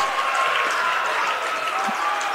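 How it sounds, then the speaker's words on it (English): Loud, dense roar of a crowd cheering and applauding at a college men's basketball game, Dawson Community College versus Miles City, sustained and enveloping throughout the arena. "Listen to that crowd."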